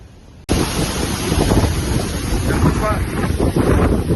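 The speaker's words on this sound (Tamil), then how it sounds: "பயங்கரமான காற்று" Strong wind suddenly roars into the microphone outdoors in Uttar Pradesh, a loud, continuous buffeting rush that persists after a quieter start.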